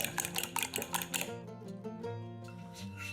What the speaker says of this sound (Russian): Все взбиваем вилкой в однородную массу.